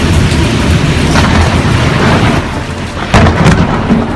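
A thunderstorm over Washington rumbles loudly and continuously with rolling thunder, then a sharper, close crack breaks through near the end.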